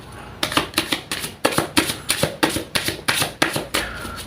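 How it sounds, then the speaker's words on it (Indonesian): Tarot cards being shuffled by hand in a quick run of about a dozen crisp riffling bursts, close and fairly loud, with no voice over them. "Langsung saja saya shuffle kartunya."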